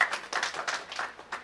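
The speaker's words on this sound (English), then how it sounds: "Applause, please." A small audience at a breakfast meeting gives a brief, sparse round of clapping, with individual claps distinct and fairly faint, fading out quickly.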